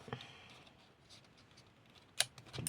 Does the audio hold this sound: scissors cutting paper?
yes